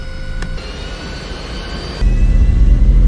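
Airliner jet engines roaring steadily through takeoff, a broad loud rumble with a thin whine on top that surges louder partway through, heard from inside the cabin with no talking.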